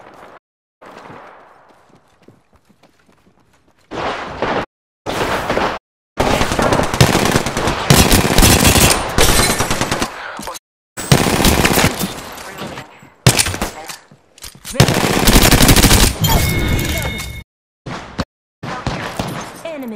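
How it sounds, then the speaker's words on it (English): Bursts of rapid machine gun fire in the battle royale shooter Apex Legends, loud and close, coming in several long volleys separated by brief silences. "Opening fire."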